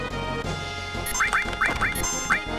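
Short rising squawks from the birds enemy in a Final Fantasy VII battle repeat about five times over a layered game soundtrack, with no talk.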